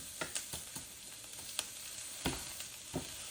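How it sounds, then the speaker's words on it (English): Squash sautés alone on a stovetop, a steady close sizzle broken by a few sharp clicks and scrapes of stirring, with no voices. "Nothing else is on the stove, just this. So I'm going to get that sauteing a little bit."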